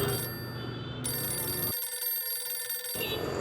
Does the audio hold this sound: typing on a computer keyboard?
no